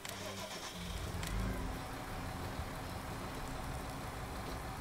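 A car engine starting and pulling away in a driving game, a low rumbling turnover swelling into a steady mid-pitched engine drone with faint background noise.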